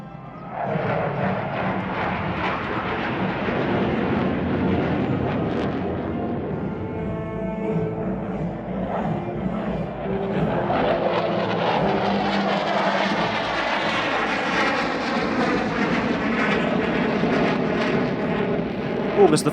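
Aerobatic team jets at the Singapore Airshow 2020 performing a scissor break, two solo aircraft running in. Continuous loud jet roar that swells and shifts pitch as the planes pass, with a crowd or commentary murmur underneath.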